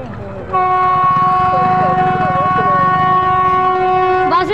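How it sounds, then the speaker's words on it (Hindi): A long, loud, sustained multi-tone electric train horn sounds close by as a passenger train arrives at Dhuri junction, holding steady for several seconds over a low rumble of the moving train. "तो दूरी आउटर से आ गई है ट्रेन।"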